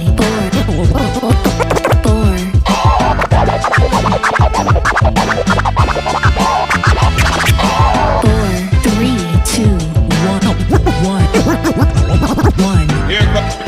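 Dense, loud DJ scratching on a brand-new Pioneer portable DJ controller, quick back-and-forth record cuts chopped over a driving beat and music with no pauses.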